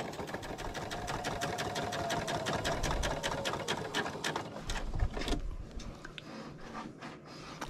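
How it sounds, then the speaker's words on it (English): A sewing machine stitches quilt binding in a fast, even mechanical patter up close, running steadily and then slowing and stopping with a few softer clicks. "as I'm stitching along here, because I'm stitching on the other side"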